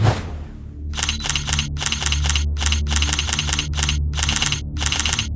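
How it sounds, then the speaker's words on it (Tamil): Rapid bursts of camera shutter clicks fire in quick clustered volleys, repeating about a dozen times in a steady rhythm over a low background hum, with no voices. "இவனை எதுக்குடா சுத்தி சுத்தி போட்டோ எடுக்கிறானுங்க?"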